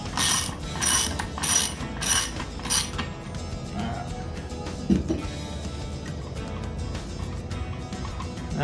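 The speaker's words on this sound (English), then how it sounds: "And you take your wrench, which this in here has to be 24 millimeter." A 24 mm wrench loosens a nut during upgrades on a Bass Tracker boat, giving a burst of rhythmic ratcheting clicks up close, followed by softer metallic fiddling and creaks.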